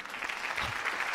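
A short burst of applause played as a sound effect after an award-style "and the winner is" announcement, a brief even clatter of clapping with no voices over it.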